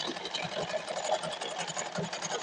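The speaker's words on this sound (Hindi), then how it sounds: "और लास्ट तक हमें सिलाई लगा लेना है।" A sewing machine runs continuously as it stitches a temporary basting seam along a folded blouse fabric, a steady fast whirring buzz with no pauses.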